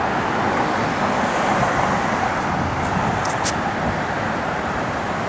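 A 1966 Pontiac GTO with a tuned tri-power setup runs steadily close by, giving a continuous, even rumble with no break and no voices.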